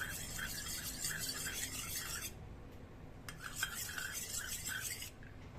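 A small spoon stirs about half a spoonful of honey into a homemade cough and cold remedy, giving steady close scraping and rubbing strokes against the container, with a short pause partway through.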